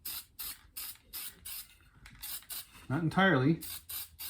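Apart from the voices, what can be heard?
spray painting a cigar box guitar neck green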